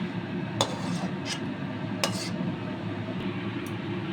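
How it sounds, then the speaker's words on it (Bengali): Cooked telakucha greens with fish head being poured from a pan onto a metal plate in a home kitchen, with soft wet scraping and a few sharp metallic clinks and taps spread through the pour. "এবার আমি একটা থালায় ঢেলে নিচ্ছি এটাকে"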